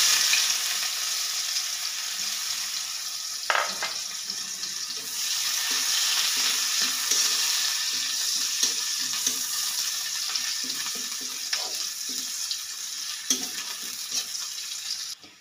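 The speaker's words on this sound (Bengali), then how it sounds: "একই তেলে দিয়ে দিব পেঁয়াজ কুচি।" Chopped onion hitting hot oil in a pan, a steady sizzle and crackle of frying with occasional stirring clatter and faint water sounds, close and continuous.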